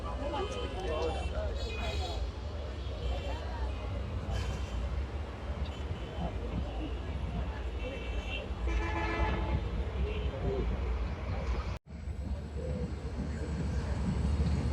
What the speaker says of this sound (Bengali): আমাদের ট্রেনটি এখন Nimtala rail station through pass করে যাবে।